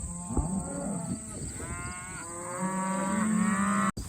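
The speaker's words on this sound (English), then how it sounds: "Cows are over there" Cattle at a ranch mooing loudly and close, a couple of long drawn-out lowing calls with a brief sharp knock near the end.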